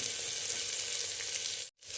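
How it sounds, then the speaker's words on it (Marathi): Grated ginger sizzles in hot oil during tempering with onion for a coriander khichdi, a steady close hiss of frying that cuts off abruptly near the end before resuming. "अद्रक थोडीशी तळून घ्यायची आपल्याला।"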